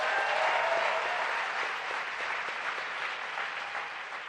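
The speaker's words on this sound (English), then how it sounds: "Let's give them another round of applause." Sustained applause from a large audience at an open plenary session of a global forum, a dense, steady wash of clapping that fills the whole stretch and fades slightly toward the end.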